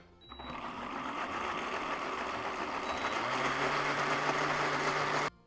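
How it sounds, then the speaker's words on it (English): A blender whirs as it purées warm charred pepper crema: a steady, loud motor drone that runs for about five seconds and then cuts off abruptly. "Blend this and see what we got going on."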